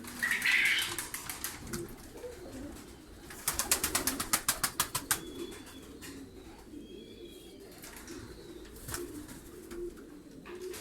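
Soft pigeon coos and bird calls in a quiet pigeon coop, with a brief burst of rapid clicking or fluttering midway.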